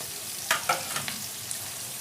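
Chopped carrots fry in a pan for egg chicken pasta, a steady sizzling hiss with a few brief louder scrapes or stirring clatters near the start before settling back to an even fry.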